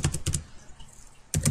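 Keys on a computer keyboard clack in two quick bursts of several strokes each, close and clear, with a quiet gap of about a second between them.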